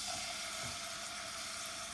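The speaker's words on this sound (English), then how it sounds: "we've got this water bubbling away with the oil" Water and oil bubbling together in a cooking pan, a faint steady hiss and soft bubbling with no voices over it.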